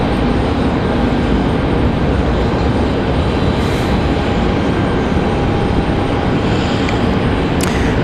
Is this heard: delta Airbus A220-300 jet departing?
yes